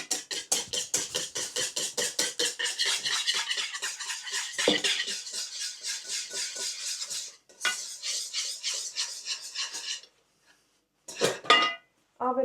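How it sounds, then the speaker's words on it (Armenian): A spoon or whisk scrapes and clinks rhythmically against a bowl while flour is mixed with water and yogurt into a smooth batter, steady fast strokes that pause briefly near the end. "Ալյուրը պետք է լավ խառնենք, որպեսզի գնդիկներ չառաջանան"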